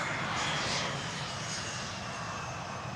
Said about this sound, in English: That's the reverser being used.